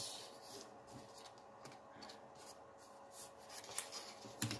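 Soft, faint rubbing and scraping as folds are creased into luxe paper by hand to make mini pouches, a close, quiet run of small strokes ending in a few sharper crinkles.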